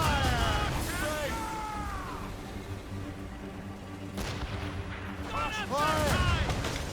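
Ship cannons fire in Assassin's Creed Rogue, heavy booms in a couple of volleys with rumbling tails over sea and wind noise, while voices shout orders over the gunfire.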